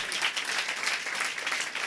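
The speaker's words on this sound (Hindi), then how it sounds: "यीशु मसीह के लिए जोरदार तालियां बजाएंगे" Audience applause for Jesus Christ at a Hindi-language church gathering, a steady dense wash of many hands clapping that holds at an even level throughout, with no voices over it.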